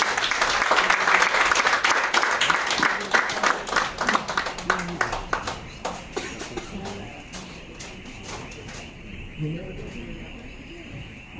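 Audience clapping for a speaker at a Fuckup Nights event in Paramaribo, dense and loud at first, then thinning into scattered claps with murmuring voices underneath.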